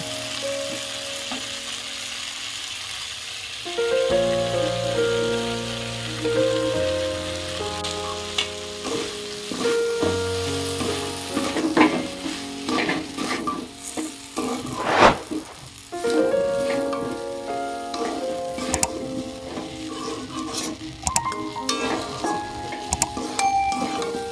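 Broken wheat (dalia) sizzles and frying in a pan with vegetables while being stirred, a steady crackle with scraping strokes, set under continuous background music.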